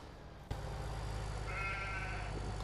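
Sheep bleat in a farming video game, a short wavering call rising over a steady low ambient hum after a sudden soft thump.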